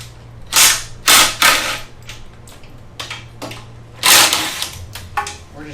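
A power tool removing mounting bolts from a Manco Dingo go-kart makes several loud, sharp impact bursts in irregular short clusters, with quieter rattles and clinks between them.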